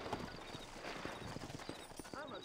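Horse hooves clip-clop at a steady trot in the Red Dead Redemption video game near New Orleans, with a soft whinny and game ambience; a voice speaks faintly beneath.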